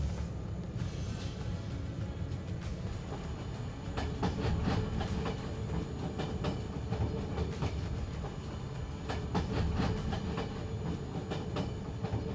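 A moving Eastern Express passenger train crossing Turkey, a historic yet fairly modern air-conditioned train heard from inside: a steady low rumble with bursts of rhythmic wheel clatter and clicks over the rail joints, no talking.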